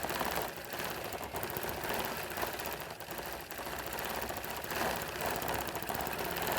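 A sewing machine stitching a Halloween quilt at about 14 stitches to the inch, a continuous fast mechanical chatter that holds steady throughout, loud and close with no talking.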